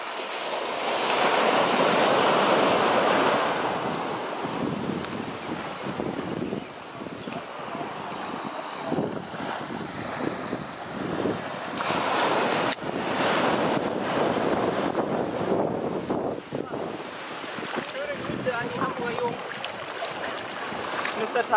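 Ocean surf rolls in at a beach in Kihei, a constant broadband wash of breaking waves with gusty wind buffeting the microphone, fairly loud throughout and without clear speech.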